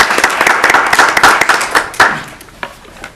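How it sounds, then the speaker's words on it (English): A small group clapping at a town council meeting, a close burst of hand claps that thins out and fades over a few seconds. "We'll turn around with applause"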